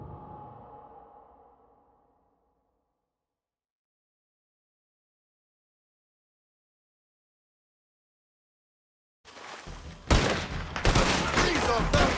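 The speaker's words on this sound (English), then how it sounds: "Just keep shooting!" Gunfire erupts in a Red Dead Redemption 2 shootout: after a fading rumble and near silence, a loud, dense burst of rapid shots and cracks fills the last few seconds.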